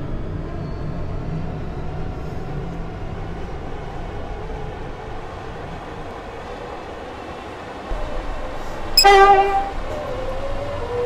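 Video game commuter train on a Stepford Connect service heading to Willowfield, rumbling steadily and loudly throughout, with a brief horn toot near the end.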